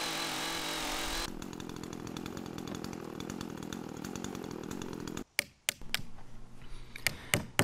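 A Makita chainsaw cuts through a tree stump, a loud, steady close buzzing drone that shifts pitch partway through, then cuts off and leaves scattered knocks and clatter.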